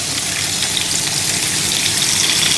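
Steady, loud sizzling of meat in a pan crackles continuously from close by, a bright hissing fry with no talking over it.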